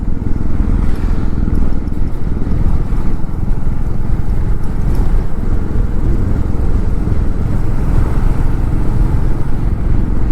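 A motorcycle cruises along a wide, smooth mountain road past Chamba on the way to Kanatal in Uttarakhand, its engine a loud, steady drone mixed with heavy wind rush for the whole stretch, with no talking.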